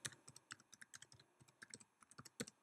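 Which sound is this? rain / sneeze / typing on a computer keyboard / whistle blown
typing on a computer keyboard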